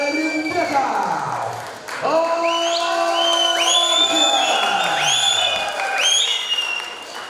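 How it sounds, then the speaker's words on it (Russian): A crowd at a Kyrgyz combat-sport fight night cheers and applauds as a fighter is introduced, with a loud announcer's voice carrying over the steady, sustained clapping and shouts throughout. "Встречаем бурными аплодисментами Керимбеков."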